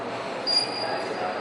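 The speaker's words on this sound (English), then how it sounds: "that's our train right there" A train pulls into a station at almost 3 a.m. with a steady, fairly loud rolling roar and a thin, high squeal of wheels on the rails.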